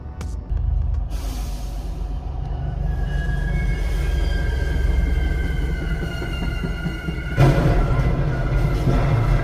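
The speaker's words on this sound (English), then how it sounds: "This is the moment a Massachusetts Bay Transportation Authority train crashed into a tractor trailer that was on the tracks." A Massachusetts Bay Transportation Authority train strikes a tractor trailer on the tracks, heard as a loud, sustained rumble of rolling rail cars with long metallic wheel squeals and a sharp burst of impact noise near the end, with no voices.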